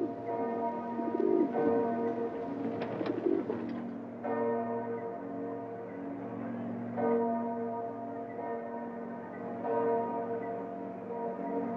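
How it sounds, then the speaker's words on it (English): Pigeons coo in a Venice square while a church bell tolls in slow, resonant strokes across the scene, the birds soft and near under the ringing. "The pigeons are an official part of the scene"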